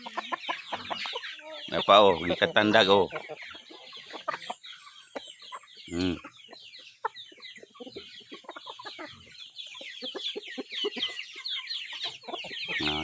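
Chickens cluck near the microphone while someone talks, with a loud, agitated burst of squawking early on and smaller clucks and calls scattered through the rest.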